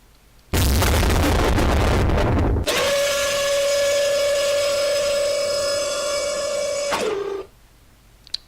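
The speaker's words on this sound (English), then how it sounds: "Now if you want to see how it fires the 98 cannons on one side" A video game warship firing 98 cannons along one side, a loud dense roaring barrage that gives way to a sustained whistling tone, then cuts off abruptly.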